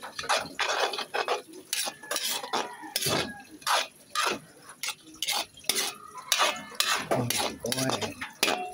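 Spaghetti being stirred in a pan: close, rhythmic scraping and clinking of a utensil against metal with a soft sizzle beneath, in quick repeated strokes and no talk.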